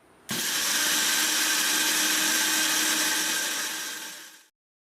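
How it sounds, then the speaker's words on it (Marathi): A mixer grinder grinding dosa batter whirs loudly and steadily for about four seconds, starting abruptly and winding down before cutting off into silence. "आता हे मी मिक्सरला दळून घेते"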